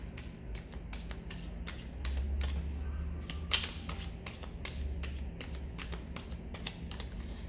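A deck of tarot cards being shuffled, a quick series of crisp riffling snaps and slaps repeating steadily at close range, with no talking.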